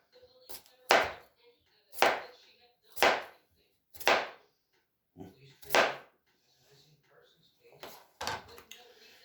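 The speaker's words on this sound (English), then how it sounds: "Alright, so slice them up." Knife slicing through potatoes on a cutting board, about seven crisp, evenly spaced chops roughly one per second, close and fairly loud, with short quiet gaps between strokes and no talking.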